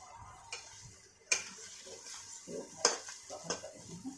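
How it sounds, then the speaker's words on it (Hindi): Chopped tomatoes go into a cooking pot for chicken masala, with a few sharp metallic clinks and scrapes of a utensil against the pot over a low kitchen background. "हम अभी कटा हुआ टमाटर को डालेंगे।"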